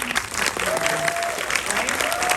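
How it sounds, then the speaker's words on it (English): A crowd applauds the team at a film premiere in Beverly Hills, a dense burst of clapping heard at moderate distance, with a faint tonal sound running briefly beneath it. "Let's give it one more round of applause for the team."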